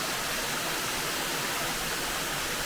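A waterfall on the Delaps Cove Wilderness Trail roars as a steady, dense rush of falling water, heard up close from a platform in the falls, loud and unbroken with no talk.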